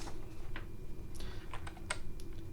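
Someone types on a computer keyboard in a scattered run of light, crisp key taps over a low, steady background hum.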